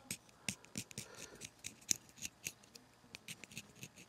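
Snips cutting a reed for a wind instrument, a series of sharp, close, quiet clicks and snips in an irregular rhythm, some slight scratching between cuts and no talking.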